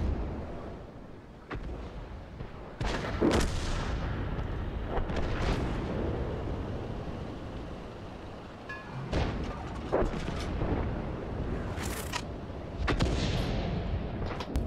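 Tank cannon fire and explosions in World of Tanks, with several heavy booms and blasts scattered across a rumbling battle backdrop, some close and loud, others more distant.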